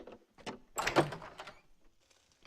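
A door opens in the video game Red Dead Redemption, with a creak and a wooden knock or two, then quieter movement, heard without speech.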